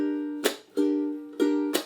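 A ukulele is strummed in a down-chuck-up pattern: ringing chords cut by four sharp, muted percussive chucks, played close and clear with no talking.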